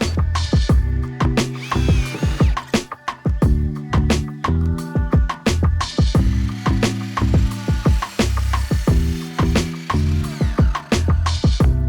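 Screws are driven one after another into wooden deck boards, a rapid chattering ratchet of a power driver in repeated bursts with short pauses between, close and loud.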